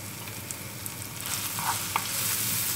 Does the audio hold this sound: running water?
no